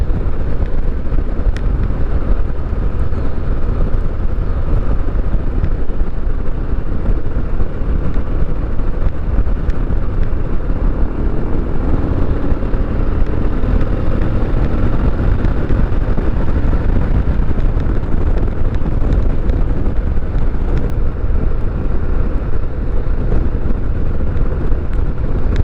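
A Harley-Davidson Heritage Classic motorcycle on the road: a steady, loud rush of wind buffeting the microphone nearly buries the engine's low rumble for the whole stretch, with no talking.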